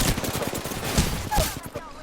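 Rapid bursts of automatic gunfire in a first-person shooter game, dense and loud with overlapping shots continuing throughout the short moment.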